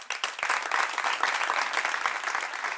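A studio audience applauds a participant on a debate program, a dense, lively burst of many hands clapping at once, steady and fairly loud throughout.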